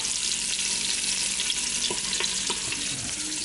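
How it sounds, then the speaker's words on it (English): Bratwurst browns in a hot pan, giving a steady close sizzle and crackle with a few faint clicks of a utensil stirring, heard alone without talk. "now they're browning up pretty good"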